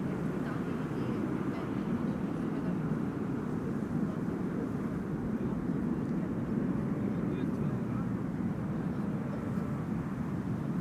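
An Airbus A321neo airliner arriving at Amsterdam Schiphol gives a steady, broad, rumbling roar that holds at an even loudness throughout, with no gaps or distinct events.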